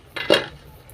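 A cooking pot lid lifts off with a short metallic clank and a brief rattle, then a quiet simmering hiss. The whole sound lasts under a second, close by and fairly loud.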